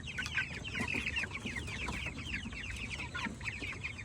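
A flock of Rhode Island chickens on a mountain farm clucks continuously in overlapping chatter, close and busy, with no one speaking.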